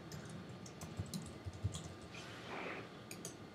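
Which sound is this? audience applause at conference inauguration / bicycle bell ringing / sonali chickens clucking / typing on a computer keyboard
typing on a computer keyboard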